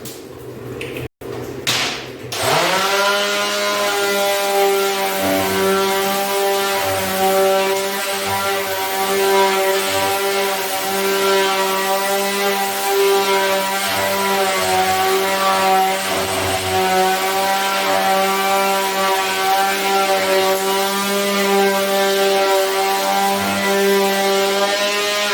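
After a couple of sharp knocks, a power sander starts up and runs with a loud, steady motor whine that holds constant for over twenty seconds.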